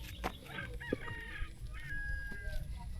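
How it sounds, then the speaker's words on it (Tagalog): A rooster crows and clucks in the highlands of Bicol in the Philippines, its bright calls rising over outdoor background noise at a moderate distance. "naririnig ko na yung ano, Tilaok. tilaok, alarm clock ng Pilipinas"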